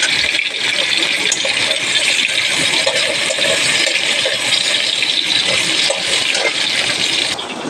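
Small parshe fish fry in hot oil with a loud, steady, bright sizzle and crackle that carries on close and unbroken, fading slightly at the end.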